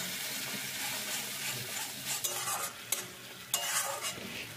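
Chopped tomato with salt, turmeric and Kashmiri red chili powder being stirred in a pan, a low sizzle under repeated scraping spatula strokes that grow sharper toward the end, close and unaccompanied by voices.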